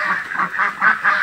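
A Muscovy drake, a five- or six-year-old male, calls up close in a quick series of about five loud, hoarse honking bursts.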